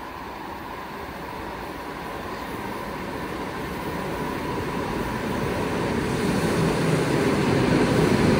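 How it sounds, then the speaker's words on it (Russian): An EP2DM electric commuter train on the Moscow line to Aprelevka rumbles steadily on the rails, its broad mechanical roar growing gradually louder as it approaches, with no talk. "И вот наша электричка. Апрелевка-Балашиха. И там едет ЭП-2ДМ"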